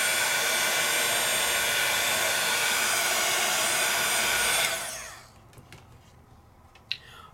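A heat tool blows steadily and loudly over sparkle powder on cardstock for about five seconds, then cuts off, leaving quiet room tone with a single sharp click near the end.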